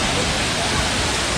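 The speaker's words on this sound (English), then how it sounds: "So we are here at Banjagiri waterfalls." Banjagiri waterfall in Sikkim, northeast India, a loud, dense, unbroken roar of falling water close by, steady throughout with no pauses.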